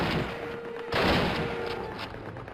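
Call of Duty gunfire: rapid bursts of shots crackle and echo in a dense, continuous volley, with a louder burst partway through.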